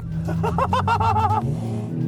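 A tuned 1200-horsepower Volkswagen Golf engine revs hard on a wet airstrip, rising in pitch, then abruptly cutting out and stumbling into a rough, sputtering idle.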